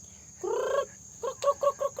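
Chickens cluck near the microphone in a quiet early-morning yard: one drawn-out call followed by a quick series of short, rhythmic clucks.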